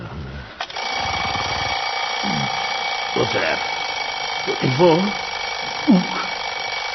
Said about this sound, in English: Oh, alarm.